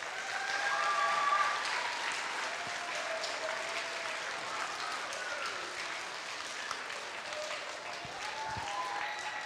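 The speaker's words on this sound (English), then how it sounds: "would you like to give all the Cregagh Primary School staff a big clap and a cheer?" Children at Cregagh Primary School's carol service clap and cheer for the school staff in steady, sustained applause from a large group, with a few faint voices and whistle-like cheers briefly rising above the clapping.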